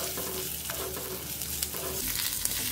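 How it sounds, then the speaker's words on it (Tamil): Ridge gourd sautés in hot oil in a pan, giving a loud, continuous sizzle with scraping stir strokes throughout. "சீரகங்காய் இந்த மாதிரி எண்ணெயில் வதக்கும் போது நல்லா சாஃப்டாகிடும்"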